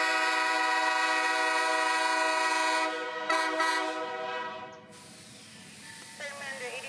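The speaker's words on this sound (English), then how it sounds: "slow the train down to a stop right at the platform" Locomotive 8330's loud, steady horn-like tone holds, then cuts off as the rumble fades and the train eases to a stop at a museum platform, with faint voices afterward.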